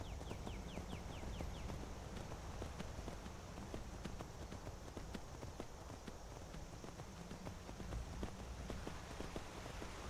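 Horse hooves clip-clop at a steady riding pace in the video game Skyrim, a quiet, regular rhythm of clops over faint background ambience.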